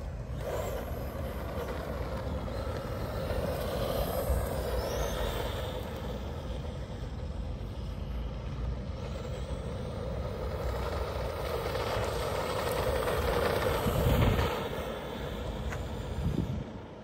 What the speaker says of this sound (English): So a very good running RC car, very controllable in my opinion.